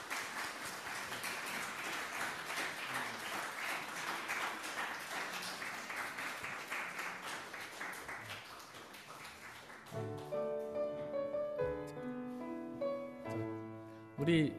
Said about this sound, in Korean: 우리 뜨거운 박수로 이분들을 환영하겠습니다